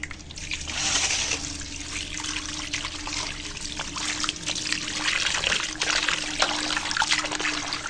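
Water trickles and splashes from a kitchen tap while chicken necks and liver are rinsed in a sink, a steady close running stream with small irregular splashes throughout.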